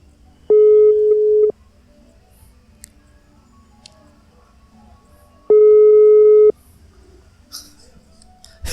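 A telephone busy signal sounds twice on a phone call as two loud, steady one-second tones spaced about four seconds apart, with quiet room noise in between and faint rustling near the end.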